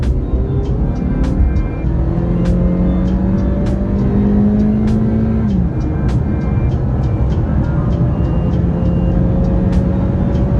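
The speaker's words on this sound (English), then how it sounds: "quick roll from 20 miles an hour, I'm flooring it." A Toyota Camry SE on clear streets, floored from a 20 mph roll, its engine note climbing steadily under full throttle with a gearshift partway through, loud and continuous with road and wind noise, no talking.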